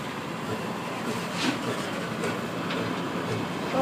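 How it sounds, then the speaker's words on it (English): A continuous low rumble of a roller coaster train rolling past nearby on Mean Streak, with faint rhythmic clatter and a rise in loudness at the end. "Train's going to be a little loud."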